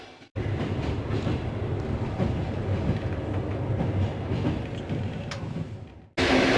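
Steady rumble and rattle heard from inside a moving passenger train of older Russian make, a continuous loud roar that cuts off briefly near the start and again near the end.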